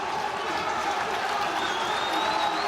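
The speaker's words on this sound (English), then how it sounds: "As the crowd reach a crescendo." Stadium crowd at a Wrexham versus Charlton Athletic football match roaring and applauding as play kicks off, a steady, dense wall of cheering throughout.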